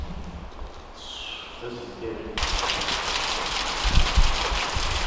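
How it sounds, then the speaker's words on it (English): Steady rain falls and patters on surfaces, growing louder and denser partway through, with faint voices mixed in. "this rain is gonna get us soaked"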